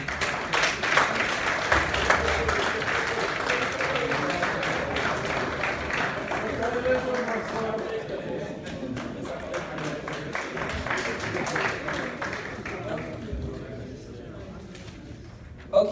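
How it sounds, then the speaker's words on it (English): Audience at a national assembly applauds steadily for about fourteen seconds, a dense, loud wash of clapping that gradually thins near the end, with voices mixed in underneath. "May we applaud Mr. McGee."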